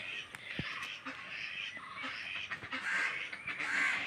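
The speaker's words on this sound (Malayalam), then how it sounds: "താറാവ്" Faint duck quacks come through a steady wash of outdoor background noise, a few scattered calls at a distance.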